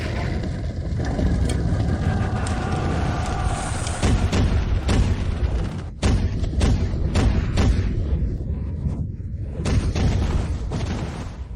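Battlefield gunfire and explosions from cannon-like firearms fill the scene with repeated sharp booms and blasts over a constant low rumble, loud and close.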